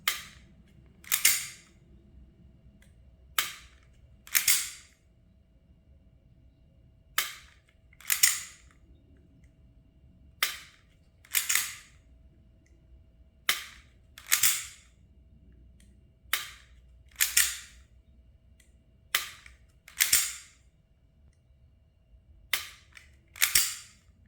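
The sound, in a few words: pistol dry-fire trigger pulls with Mantis X10 Elite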